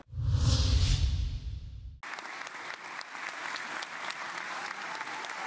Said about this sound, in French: Une nuée d'applaudissements se transformant en une véritable standing ovation.